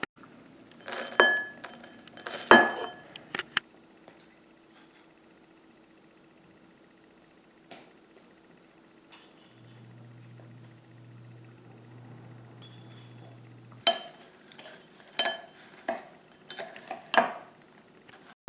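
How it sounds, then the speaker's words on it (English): Nuts, sugar and cinnamon are stirred together in a glass bowl, giving bursts of close clinking and scraping, then a long quiet gap before more rattling stirs. "we're going to mix nut, sugar,"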